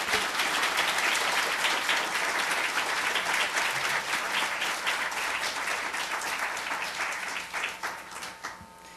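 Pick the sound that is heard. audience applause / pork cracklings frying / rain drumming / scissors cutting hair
audience applause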